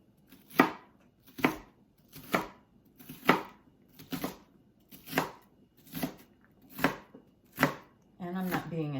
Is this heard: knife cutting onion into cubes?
yes